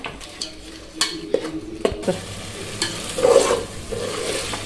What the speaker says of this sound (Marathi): आता हे मिक्स करून घेऊया.